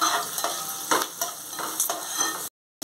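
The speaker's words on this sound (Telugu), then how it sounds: "దీంట్లో ఇప్పుడు కొంచెం గీ యాడ్ చేసుకుందాం." Ghee hitting chicken curry in a pan, with bright sizzling and a rhythm of spoon strokes scraping as it is stirred, close and loud, ending in a sudden cutoff.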